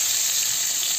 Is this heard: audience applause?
no